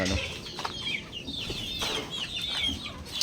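Cockerels with wet droppings cluck and call repeatedly at close range, their voices overlapping in a busy, continuous farmyard chatter without a break.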